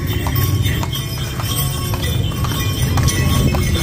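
Horse hooves clip-clopping during horse rides, a quick irregular patter of soft knocks under loud steady outdoor noise and rumble, close by.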